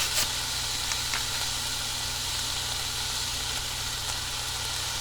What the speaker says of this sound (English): I'm going to try to talk over the sizzling